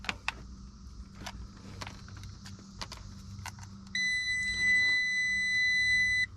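A bright electronic multimeter continuity beep starts partway through and holds steadily, following a few faint clicks and taps in a quiet room.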